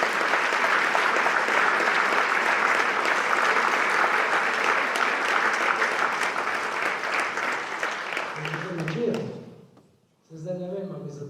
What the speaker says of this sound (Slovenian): Zdaj ne vem, ali mi zato ploskate, ko sem prišel